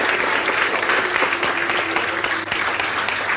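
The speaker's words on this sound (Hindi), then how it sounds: "जोरदार तालियों से स्वागत करो।" An audience claps loudly and steadily in a sustained burst to welcome a teacher at a Rajasthan general knowledge class, a dense continuous wall of applause with no break.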